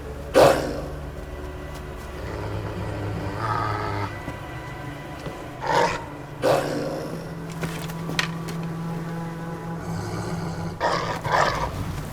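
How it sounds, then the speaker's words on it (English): A puppy barks and growls in Assassin's Creed Valhalla during an Asgard dream sequence, giving several short, sharp bursts spaced apart over steady game ambience and music. "This little pup shouldn't be here."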